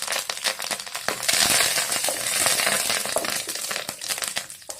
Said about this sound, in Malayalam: അല്പം കറിവേപ്പില ചേർക്കാം.